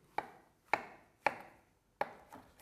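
Knife chopping through mushroom stems on a board: four sharp, evenly spaced cuts at close range, then a couple of softer taps at the end, no speech.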